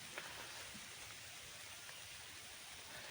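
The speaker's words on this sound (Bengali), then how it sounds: "দেখলে বুঝতে পারেন যে বৃষ্টি পড়তেছে" Steady, soft hiss of rain falling on a riverbank, faint and continuous throughout with no voices.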